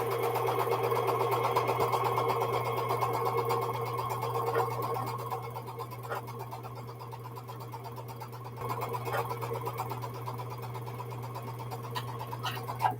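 A sewing machine stitches a quilt seam with a steady, continuous mechanical hum and fast rhythmic needle ticking, moderately close and running throughout without talk.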